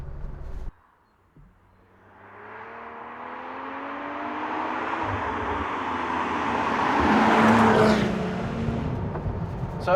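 A Morgan sports car is driven hard on a road, its engine droning and building steadily in pitch and loudness as it accelerates, with road and wind roar rising toward a peak near the end.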